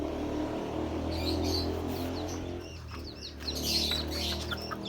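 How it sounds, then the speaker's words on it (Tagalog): Hens cluck softly amid faint high chirps from chicks, with a constant low hum in the background; one hen is sick with one-eye cold. "Yan, ang manok sisiw."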